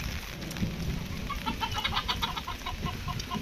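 Chickens on a farm clucking softly in a short run of calls over a steady, noisy outdoor background.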